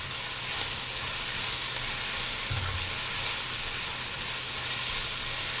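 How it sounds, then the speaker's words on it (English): Ingredients sautéing with salt in a hot pan for chicken biryani, a loud dense hiss of frying that stays constant and close throughout, no voices. "Time to saute."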